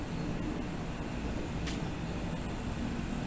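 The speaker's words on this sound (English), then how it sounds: "right here we have a Train XP that's running." A running Trane XP 4-ton, 48,000 BTU HVAC air conditioner unit gives a steady, even hum and whoosh of fan noise, continuous and close, with no voices.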